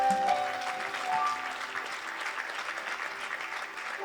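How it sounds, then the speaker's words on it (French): A church congregation bursts into sustained applause, many hands clapping densely and evenly throughout, with a few faint voices mixed into the crowd. "Est-ce qu'on peut acclamer le Seigneur?"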